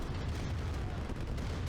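Tank battle in Command & Conquer: Red Alert Remastered, a continuous rumble of cannon fire and explosions with no distinct gaps, dense and steady.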